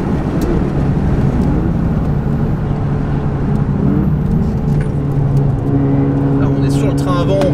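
Peugeot 308 race car accelerating on the Nürburgring, a loud sustained engine drone heard from inside the cabin with someone talking over it throughout.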